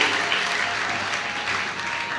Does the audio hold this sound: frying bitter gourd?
no